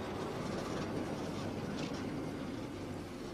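A London Underground train running on rails at a depot, a steady continuous rumble of rolling wagons and wheels throughout, fairly even in level with no voices.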